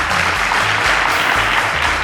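Studio audience at a televised quiz show final breaks into a round of applause, a dense, steady clatter of many hands clapping close and loud throughout.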